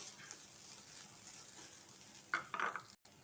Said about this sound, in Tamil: இப்போ இந்த நெய்யில் இந்த தேங்காய் துருவில் போட்டு வதக்கிக்கலாம்